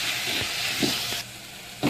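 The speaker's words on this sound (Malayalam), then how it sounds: "സവാളയുടെ ട്രാൻസ്പെറൻ്റ് ആകുന്നതും വരെ നന്നായിട്ടൊന്ന് വഴറ്റിയെടുക്കണം" Sliced onions sauté in oil in a clay pot while a chicken curry is prepared, giving a steady close sizzle with a few soft stirring scrapes and brief louder bursts.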